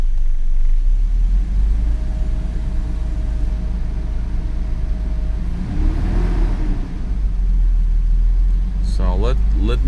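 A Mercedes V12 engine idles roughly on only six of its twelve cylinders, a loud, steady, uneven rumble that carries through the whole stretch, with a brief higher whine near the end.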